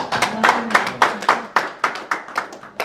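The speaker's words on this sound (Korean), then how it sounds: "다시 한번 박수 부탁드립니다" A small seminar audience claps at an academic exchange event, a sparse, uneven round of hand claps with distinct individual strikes, close and moderately loud, no talking.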